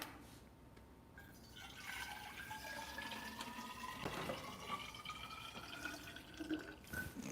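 Tap water runs steadily into a container in a home kitchen, a continuous splashing rush with a rising fill tone, heard alone at moderate distance.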